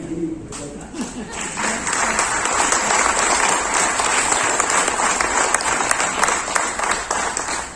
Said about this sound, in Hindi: एक ताली